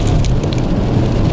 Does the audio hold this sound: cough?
no